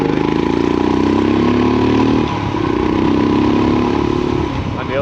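A motorbike engine drones loud and steady while riding, its rumbling pulse dipping briefly in pitch and then settling back, with no one talking.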